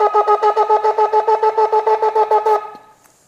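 A rapid string of very short shofar blasts (teruah), around fifteen quick staccato toots in an even rhythm, loud and close, ending abruptly.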